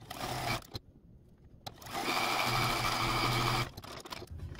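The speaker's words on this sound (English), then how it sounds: "Now this section can be sewn to the flower box that we created last week." A domestic sewing machine stitches pieced quilt sections together, running in steady motor bursts with short pauses between seams, close and fairly loud with no voices.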